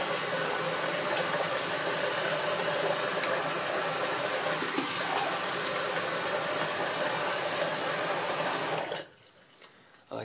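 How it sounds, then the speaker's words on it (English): Tap water runs while a face is rinsed after a shave, a steady, close splashing rush lasting about nine seconds before it cuts off abruptly into near quiet. "So I'm gonna rinse my face real quick."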